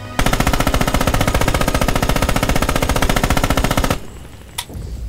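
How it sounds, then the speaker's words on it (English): MG42 machine gun in Red Orchestra 2 fires one long, very rapid sustained burst for about four seconds, loud and close, then cuts off, leaving a faint tail and a single sharp click. "let's just see how long it takes to fire 50 rounds on this, and then I'll fire the rest of that magazine and the 42"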